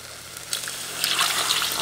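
Water splashing and swirling inside a mixer grinder jar, a steady wet rush that builds and grows louder toward the end.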